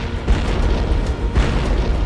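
A deep, booming cannon blast rolls out in a battle scene, a massive low-end thump with a sustained rumble and a second heavy concussion close behind, loud and without voices.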